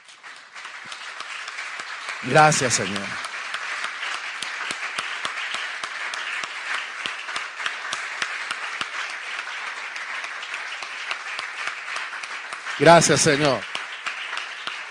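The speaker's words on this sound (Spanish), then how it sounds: "Ríndale un aplauso fuerte al Señor." A church congregation applauds in two loud bursts of clapping, one early and one near the end, with a voice speaking and praying under a steady background between them.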